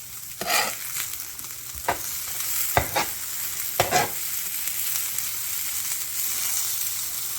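Scattered hash browns are mixed on a hot griddle with a metal spatula: a soft sizzle runs throughout, broken by several sharp scraping strokes at irregular intervals, close up and with no talking.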